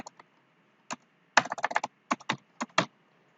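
Several short bursts of keystrokes on a computer keyboard as a one-time passcode is entered, with quiet gaps between the clusters and no talking.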